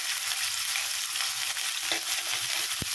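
Onion and chopped vegetables hit a little hot oil, giving a loud, close, continuous sizzle with a couple of brief stirring knocks and no voices.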